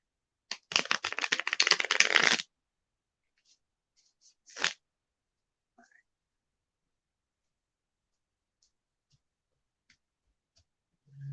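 New, stiff playing cards riffle together in a quick, crisp burst lasting about two seconds, then a short flick and faint taps in otherwise quiet surroundings.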